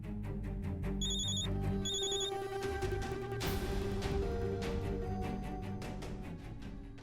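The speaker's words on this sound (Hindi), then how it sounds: "40 बार तू चड्डा का फोन काट चुका है" A telephone rings over and over with repeated electronic trills, loud and close, while a busy background of music and room noise runs underneath.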